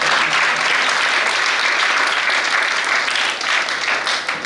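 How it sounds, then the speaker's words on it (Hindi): An audience at a summer camp inauguration bursts into loud, sustained applause, dense clapping filling the room steadily for several seconds without a break. "एक बार दीदी के लिए आप जोरदार तालियां बजाएं"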